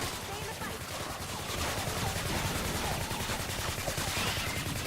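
Mercury LMG light machine gun fire in a shooter video game: a dense, unbroken stream of rapid shots, loud and close, lasting the whole stretch with a faint voice mixed underneath.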